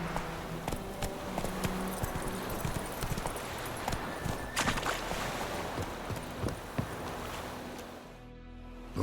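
Horse hooves clip-clop steadily in The Witcher 3 game, a continuous rhythmic patter over ambient background that fades out near the end.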